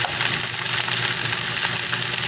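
Previously cooked food sautéing in a pan with pepper being added, a steady broadband sizzle and crackle running continuously at close range with no voices.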